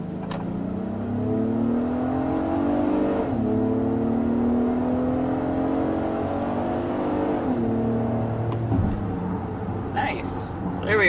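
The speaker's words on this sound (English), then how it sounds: "So there we are, going up to 60 miles per hour with the MDX." A 2023 Acura MDX with a turbo four-cylinder accelerates to 60 mph up a steep hill, its engine note rising through gear changes under continuous cabin road noise while someone talks over it.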